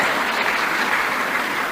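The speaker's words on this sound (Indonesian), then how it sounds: "Tepuk tangan dong." Steady, dense audience applause fills the whole moment at a speech to a large gathering of doctors, loud and continuous without a break.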